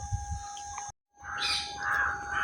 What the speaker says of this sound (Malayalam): കുറേ ഉണ്ടായിരുന്നു തത്തമ്മ കേട്ടോ.